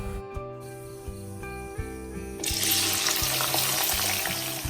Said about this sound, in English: I added all the vegetables together for sauteing instead of adding each at a time